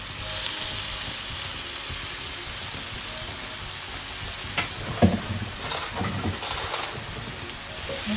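Chicken pieces frying in hot oil for arepas, a steady close sizzle throughout with a few brief stirring clinks and bumps near the middle.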